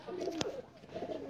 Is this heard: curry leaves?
no